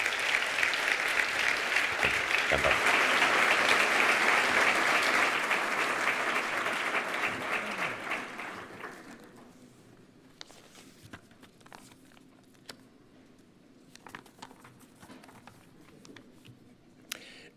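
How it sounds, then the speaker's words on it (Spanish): Loud applause from a crowd at a cultural launch presentation for about nine seconds, then fading to scattered claps and light rustling, with a brief spoken word near the end. "Un fuerte aplauso para él,"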